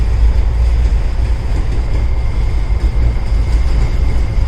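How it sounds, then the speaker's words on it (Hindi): A goods train on the railway in Rajasthan near the Luni river produces a loud, continuous, deep rumble, close and unbroken throughout. "ये बीच में एक गुड्स ट्रेन खड़ी है, डिस्टर्ब कर रही है हम लोगों को।"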